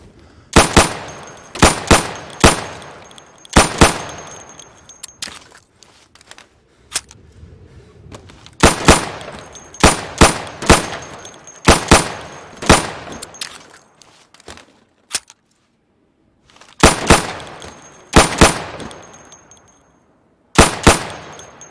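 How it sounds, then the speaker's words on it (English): Pistol sidearm fire at pop-up targets in the video game Insurgency, loud sharp shots in quick bursts of three to five, separated by short silences, with a few single shots and metallic target pings. "So you can shoot accurately over 20 feet with your sidearm."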